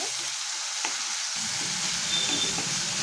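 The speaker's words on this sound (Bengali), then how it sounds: "দিয়ে কিছুক্ষণ এইভাবে একটু নাড়িয়ে চাড়িয়ে টমেটোটাকে একটুখানি নরম করে নেব।" Tomatoes fry with a steady, close hiss and sizzle in a pan, with faint scrapes of stirring underneath and a slight rise in low rumble partway through.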